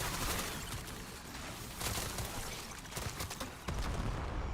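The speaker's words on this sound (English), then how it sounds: "I want to see if underbarrel nades works here" Underbarrel grenade launcher fire in the game REX INFERNUS, a dense run of overlapping blasts and gunfire bursts lasting the whole stretch, loud and continuous with sharper booms punctuating it.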